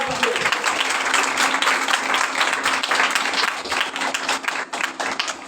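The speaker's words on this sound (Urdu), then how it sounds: "خدا کے بیٹے بیٹیاں اس کے جلال کے لیے زوردار تالی بجائیں" A church congregation applauds loudly during a thanksgiving service, with dense, continuous clapping filling the room and a few voices mixed in.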